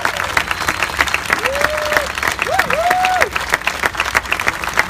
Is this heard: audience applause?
yes